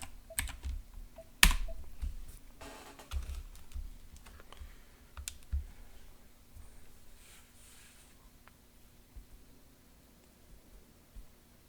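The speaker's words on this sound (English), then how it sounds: "Let me just use a keyboard here." A computer keyboard being typed on while adding games to a Dreamcade Replay arcade machine: scattered, quiet keystroke clicks with one sharper tap, over a low steady hum.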